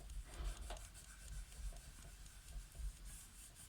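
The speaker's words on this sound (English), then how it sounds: "I use my finger to shade, and I might just to rub it all sort of in" A finger rubs pencil shading into paper, producing soft, close, rhythmic scratchy swishes that repeat in short strokes with faint pauses between them, quiet and without speech.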